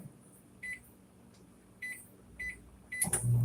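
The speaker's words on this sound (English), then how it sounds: "pop this in the microwave and I'll show you when it comes out" A running microwave oven gives a low steady hum, with several short beeps and the clatter of its door near the end, heard close in a quiet kitchen.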